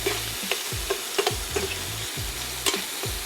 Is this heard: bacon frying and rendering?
yes